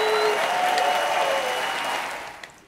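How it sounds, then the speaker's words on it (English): Hand clapping fills the short stretch as a dense, steady patter, probably one person or a small group, with a faint tonal hum beneath it; the sound fades toward the end. "We have to do a very royal classy clap"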